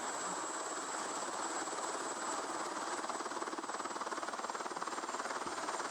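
Helicopter in a Granny-style horror video game, a steady loud rotor and engine drone with rhythmic blade chop, continuous and close throughout with no talk.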